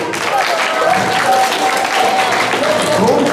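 Audience applause fills the space with steady, dense clapping at a fairly loud level, with a voice talking over it.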